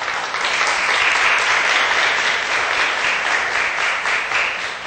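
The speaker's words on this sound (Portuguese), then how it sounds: "uma salva de palmas" Loud, dense applause from an audience at the opening of the FLIPORTO Digital literary festival, a sustained roar of clapping that stays full and even for the whole stretch.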